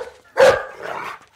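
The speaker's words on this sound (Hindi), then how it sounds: "अबे कुत्ते क्यों भौंक रहा है?" A dog lets out a single loud, close bark followed by a softer trailing yelp, heard alone without speech.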